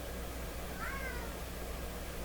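A cat gives a single short meow, faint and at a distance, over a steady hum from a workbench where a Westinghouse Model 1029 multiband tube radio is being examined.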